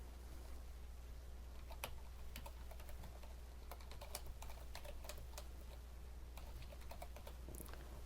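Quiet typing on a computer keyboard, an uneven patter of soft key clicks under a low steady hum, with no voices.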